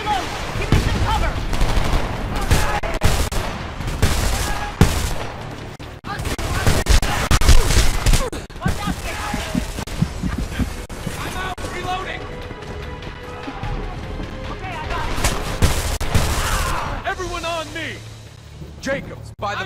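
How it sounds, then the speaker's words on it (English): Heavy automatic gunfire in the video game Homefront, dense bursts and rapid machine-gun fire with crashes and impacts, loud and continuous, under shouted talk from soldiers. "Heavy fire!"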